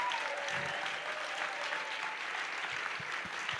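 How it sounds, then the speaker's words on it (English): Sustained audience applause fills a Navaratri Puja evening gathering in honour of the Sahaj musicians, a dense even wash of clapping from a crowd with no voices on top. "Can we give them one more huge round of applause"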